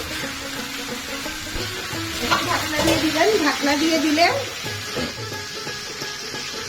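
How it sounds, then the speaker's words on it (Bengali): Rohu and catla fish frying in oil in a pan, a steady sizzle running throughout, slightly louder in the middle, while someone talks over it. "মাছ ভাজা প্রায় শেষের দিকে"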